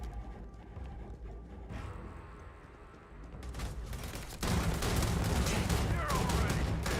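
Gunfire and a grenade blast in the game Starfield: scattered shots at first, then a loud, sustained burst of heavy fire and explosion noise that grows denser toward the end, with a little talk mixed in.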